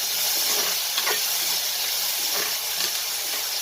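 Peas are dropped into a hot pan of raw mango pulao, and a steady sizzling hiss fills the whole stretch, with a few faint taps poking through.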